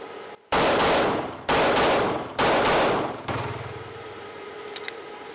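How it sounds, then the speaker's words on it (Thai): A CZ Shadow 2 Carry pistol is test fired at a range: three loud, sharp gunshots, each spaced about a second apart and followed by a ringing decay, then a quieter rattle and faint clicks. "เดี๋ยวอีกนัดหนึ่งในนี้ ลองยิงแบบดับเบิลดูสักนัดครับ"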